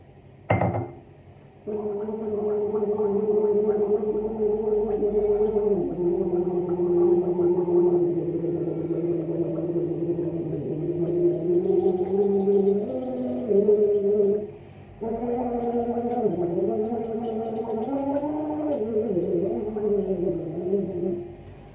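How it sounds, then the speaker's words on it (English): A person gargles while voicing long wavering tones, a bubbling throat sound with shifting pitch that runs for several seconds, breaks briefly and then resumes, loud and close. "Gargle and start to make sounds"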